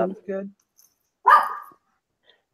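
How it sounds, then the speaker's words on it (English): Dogs bark in a few short bursts at close range, with a pause between them, while someone speaks briefly. "Sorry about my dogs."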